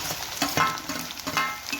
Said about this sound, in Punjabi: ਇਹਦੇ ਵਿੱਚ ਪਿਆਜ਼ ਨੇ ਜਿਹੜੇ ਕੱਟੇ ਹੋਏ ਉਹ ਪਾ ਦੇਵਾਂਗੇ